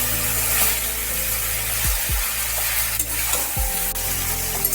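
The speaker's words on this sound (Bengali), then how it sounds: "একটু ভালো করে নাড়তে হবে আর একটু তেলটাও বেশি দিতে হবে" Elephant foot yam stalks frying in oil and being stirred, a steady sizzle under repeated scraping strokes from a utensil against the pan, close and continuous with no voices.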